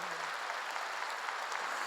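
A church congregation applauds during a sermon, and steady, dense clapping fills the room at an even level without any voices over it.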